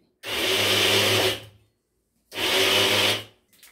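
Kitchen mixer grinder whirs through a batter of sweet potato and wheat flour in two loud, steady bursts of about a second each with a pause between, then a brief faint rattle.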